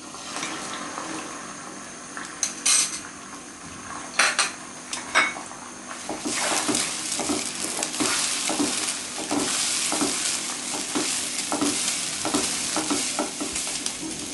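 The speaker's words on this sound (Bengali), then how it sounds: "প্রথমেই আমি ডিমটা ফ্রাই করে নিচ্ছি।" An egg fries in oil in a pan for chowmein, giving a continuous sizzle throughout. Sharp metallic taps and scrapes of a utensil against the pan come early, and the frying turns louder and busier partway through.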